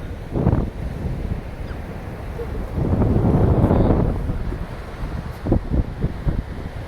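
Strong wind gusts buffet the microphone by the sea, with surging rumbles and waves in the background and no talking.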